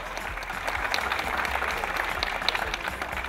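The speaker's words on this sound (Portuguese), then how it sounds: "também pedimos uma efusiva salva de palmas" Audience at a football club tournament awards ceremony applauding as a distant, steady wash of clapping with a low background hum.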